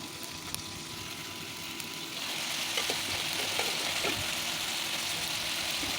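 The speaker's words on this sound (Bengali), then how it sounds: "লবণ হলুদ মাখিয়ে আমি সেই চারাপোনা মাছটা ভাজা করে নিচ্ছি" Small fish rubbed with salt and turmeric fry in a pan in a village kitchen. A steady, close hiss of oil starts quietly and grows louder and fuller partway through, with scattered crackles.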